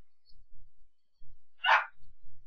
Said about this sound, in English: 1 second, I have a barking dog.